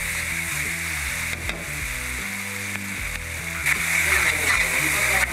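Tomatoes with salt sizzle and fry in a pressure cooker as they melt down for a quail egg gravy, a steady close crackle that swells toward the end, with a faint voice murmuring underneath.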